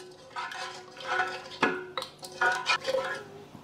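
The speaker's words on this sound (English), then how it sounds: "Give that a bit of a stir." A spoon stirring brown sugar into wet ingredients in a bowl, with soft scraping and a few distinct clinks against the dish, close and fairly quiet.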